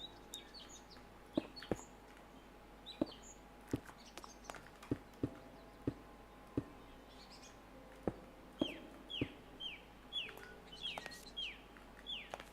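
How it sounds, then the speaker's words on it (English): Ambient birdsong from a modded Minecraft world, scattered high chirps and a run of quick descending tweets, faint and distant, over soft blocky footstep-like clicks and a quiet low hum. "I love the birds chirping, by the way."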